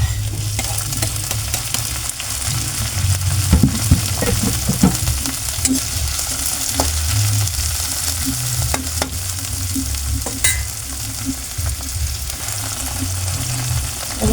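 Chopped tomatoes dropped into a hot frying pan for sautéed sponge gourd with misua and sardines, a loud, steady sizzle with scraping stirs and clatter throughout, close up, with no talking.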